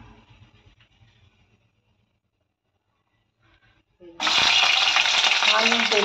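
Mustard seeds and cumin hit hot oil in a pan for a capsicum and tomato dish, bursting into a loud, steady sizzle and crackle after a few seconds of near silence with faint background noise.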